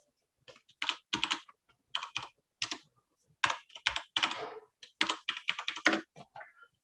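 Code being typed on a computer keyboard in bursts of rapid, close keystrokes separated by short pauses, no voices.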